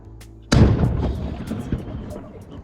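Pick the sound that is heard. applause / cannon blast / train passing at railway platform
cannon blast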